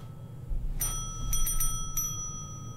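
A service bell at a check-in counter in the video game Postal 4 rings in a few quick bright dings over a low steady game background hum, fairly close and clear.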